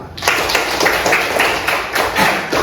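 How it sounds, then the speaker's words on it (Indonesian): A school class clapping hands together in a classroom, a lively steady patter of many claps with a rhythmic pulse, close and loud, starting just after a brief quiet moment. "Tepuk tangan untuk Mbak Amal"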